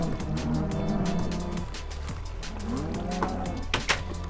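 Cows in a Minecraft self-cooking beef farm give a couple of low drawn-out moos over a steady mechanical hum, with sharp clicks and knocks near the end and no talking.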